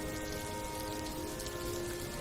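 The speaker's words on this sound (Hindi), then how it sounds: "बारिश और तेज होने लगी थी" Heavy rain pours down steadily, a dense even hiss of drops on surfaces with a faint tonal hum underneath, constant and close throughout.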